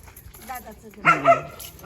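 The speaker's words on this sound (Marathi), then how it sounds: "इकडे एक सुंदरसा डॉग आहे" A dog gives a quick bark or two, close by, amid quiet background sounds.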